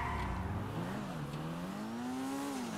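Maibatsu Penumbra FF, a four-wheel-drive car in GTA V, drives with a steady engine drone whose pitch rises and dips as it accelerates and eases off, loud and continuous throughout with no talk.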